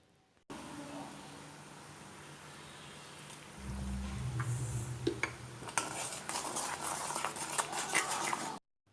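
A spoon scrapes and clinks in a pot while mango pickle is stirred, a few clear metallic knocks and mixing scrapes in the second half, faint and close.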